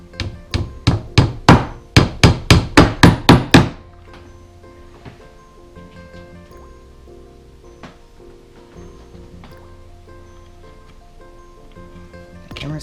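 About a dozen quick, sharp hammer taps on tiny nails going into a wooden dresser, in a fast rhythm, then quiet room tone with faint rustling.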